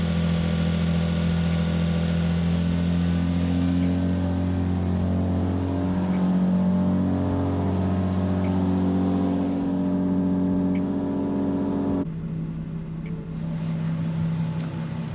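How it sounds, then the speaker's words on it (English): A Lexus IS200 engine idles with a steady low hum and rumble, running continuously without revving after a timing belt change; no voices. "the car has been running for about 15-20 minutes now"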